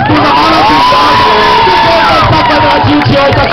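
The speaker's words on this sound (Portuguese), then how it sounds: "eu queria uma salva de palmas bem gostosa pra esse turma" A crowd at an LGBT pride rally in Diadema, São Paulo, cheers and whoops loudly, with shouts and high voices rising over dense, sustained noise from start to finish.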